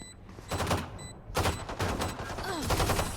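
Rapid bursts of video game gunfire crackle close and loud in quick, repeated volleys, with a voice briefly heard among the shots.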